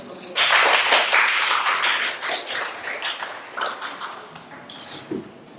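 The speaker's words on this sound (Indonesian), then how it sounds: "Tepuk tangan dulu." A group at a school teachers' sharing session claps steadily for about five seconds, fairly close and dense, then tapers into scattered claps.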